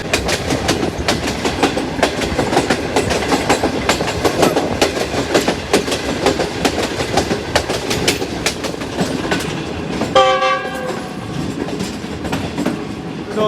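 The 609 Green Line Express rolls into Rawalpindi yard, a loud, close rumble of wagons with rhythmic clickety-clack over rail joints throughout, and a brief squeal or horn-like tone near the end; no talk.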